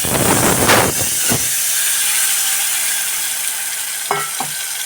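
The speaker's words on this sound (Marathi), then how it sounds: "आता ह्याच्यात मी पिळलेला आंबा घालणार" Squeezed mango juice poured into a hot ghee tempering of chillies and curry leaves gives a loud, steady hiss and crackle of sizzling, with a few brief clinks of utensils near the end.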